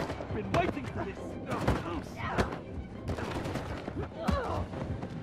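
Enemies firing at the player in Uncharted 4: A Thief's End, with sharp bursts and single gunshots cracking irregularly through the clip, some close and loud, under a busy game mix.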